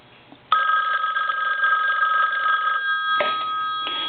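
After a soft click, an ITT rotary desk telephone's adjusted bell bursts into a fast, steady metallic ring, close and loud, stopping abruptly and then giving two short chimes.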